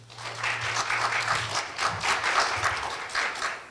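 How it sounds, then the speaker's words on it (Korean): An audience at a Korea University lecture marking the 55th anniversary of the 4.19 Revolution applauds a woman who kept a diary during the uprising, a steady wash of many hands clapping with a low hum beneath. "박수 한번 보내주십시오"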